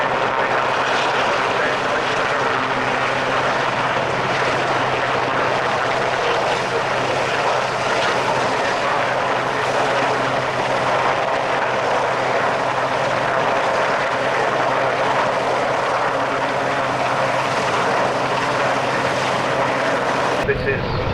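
A Westland Sea King helicopter of 22 Squadron search and rescue performs at an airshow, its engine and rotors giving a continuous, loud, steady droning roar while a commentator talks over it.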